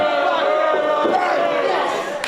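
Spectators at an indoor independent wrestling match react with displeasure in a continuous, loud mass of shouting and murmuring crowd noise that dips slightly near the end.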